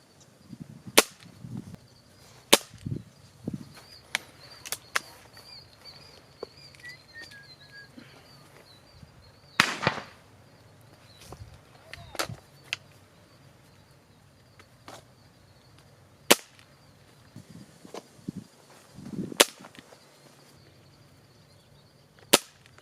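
Sharp, isolated pops from a Gamo Whisper Fusion Elite .22 air rifle ring out at irregular intervals, some louder than others, with faint birds chirping in the quiet outdoor background.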